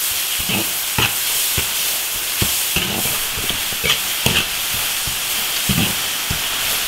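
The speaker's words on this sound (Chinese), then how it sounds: "爆炒2分钟，" Lamb tripe stir-fried in an iron wok gives a steady, loud sizzle, with scattered clanks and scrapes from the stirring recurring throughout and no one speaking.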